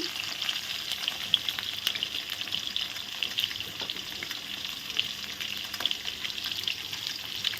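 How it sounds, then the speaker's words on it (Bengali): Potatoes frying in oil with salt and turmeric for a chicken curry meal, a dense, even sizzle holding steady throughout with faint stirring clicks and no talk. "হলুদ দিয়ে আলুগুলো ভালো করে এখন ভেজে নেব"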